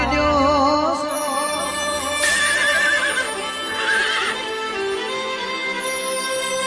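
A horse neighs loudly and close, a long wavering whinny with trailing snorts, over a bed of hoof clatter, and no talk.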